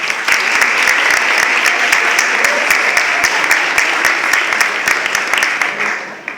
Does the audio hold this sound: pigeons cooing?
no